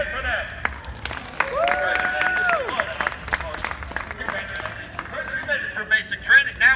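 Applause and scattered clapping from a crowd at a Disney park show, with cheering voices and chatter mixed in, steady throughout with a few louder claps near the end.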